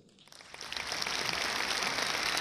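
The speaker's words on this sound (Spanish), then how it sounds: "Un aplauso para Gabriel León, que ha estado junto a nosotros." An audience at a science talk on cows, viruses and vaccines breaks into applause that swells from a few scattered claps into steady, dense clapping filling the hall.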